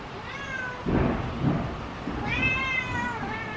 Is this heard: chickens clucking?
no